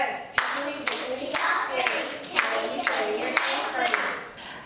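Young children at an early childhood center clap in an even rhythm, about two claps a second, close and bright. Voices mingle in the background.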